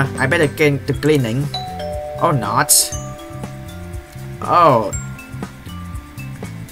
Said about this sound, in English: That's a doorbell, who's it?